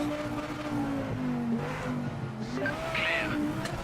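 A GT4 race car in the Project Motor Racing game drives with a steady engine drone that rises and falls as it shifts, with brief tire squeal, a continuous muffled sound heard alone.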